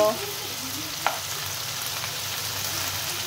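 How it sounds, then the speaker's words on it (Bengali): Puti fish curry fries in a pan with a steady, even sizzle and crackle, close by, plus a single faint clink near the start and no talking. "সুন্দর করে রান্না চলছে"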